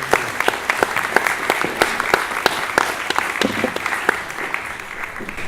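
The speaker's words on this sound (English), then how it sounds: "So let's give Ken a big round of applause" An audience at a neighborhood association presentation gives a round of applause, with individual hand claps standing out crisply over a softer, continuous clatter for several seconds.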